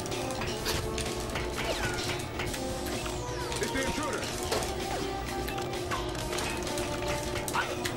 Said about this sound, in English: you have to ride on the top of this elevator, and it takes a long time.